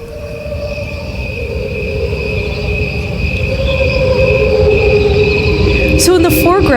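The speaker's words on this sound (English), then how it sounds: "So in the foreground, you hear crickets." Crickets chirp steadily in the foreground of a music track, a continuous layered high trill over a low rumbling bed, with a brief swooping tone near the end.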